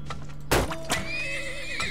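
A horse in the video game Turmoil gives a single sharp whinny that rises and wavers as it fades, preceded by a few soft hoof clip-clops.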